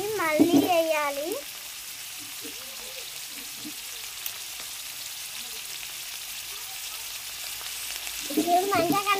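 Onions and curry leaves frying and being stirred in a pan for fried rice, giving a steady close sizzle with soft scraping, while a voice speaks briefly at the start and again at the end.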